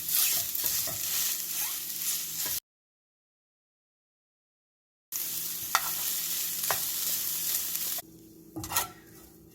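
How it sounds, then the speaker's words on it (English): Tofu frying in a pan and stirred continuously to dry it out, producing a close hiss and scraping stirs, with a stretch of silence partway through before the sizzling resumes more quietly. "We just put our tofu in, and you want to keep mixing it around to get all the moisture out again."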